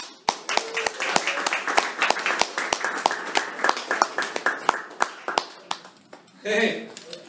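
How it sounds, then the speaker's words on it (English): Scattered clapping in a comedy club on a Tuesday night, a sparse crowd producing distinct individual claps in a loose, uneven rhythm for several seconds before a short burst of louder noise near the end. "Big round of applause, please,"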